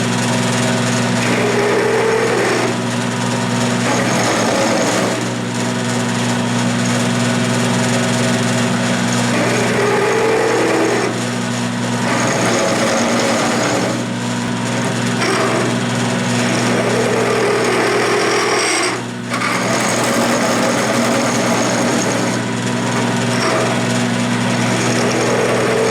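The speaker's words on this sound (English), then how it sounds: "I took it over the sander" A belt sander trues up a metal dial indicator mount for an Atlas lathe, running as a loud, steady motor whine for the whole stretch, with the pitch shifting as the part is pressed against the belt and eased off.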